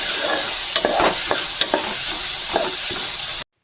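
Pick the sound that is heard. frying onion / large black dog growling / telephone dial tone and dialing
frying onion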